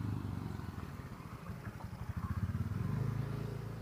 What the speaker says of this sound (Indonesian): nanti di depan itu ada motor